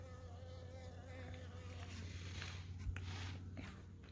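A steady, droning buzz of many bees in a hive's top box holds throughout, with a low hum underneath and faint scattered movement noises.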